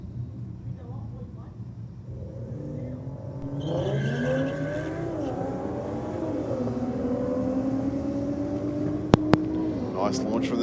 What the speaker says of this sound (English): Next up, the BMW taking on the Ford Focus there in the Rocket Lane.